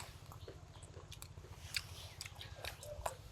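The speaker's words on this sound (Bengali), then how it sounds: "এই যে আমন্ড খাওয়া হচ্ছে রোদে বসে বসে ছাড়িয়ে আমি খেলাম" Peeled almonds are chewed outdoors in the sun, faint crunchy bites and soft chewing clicks scattered over a low steady hum.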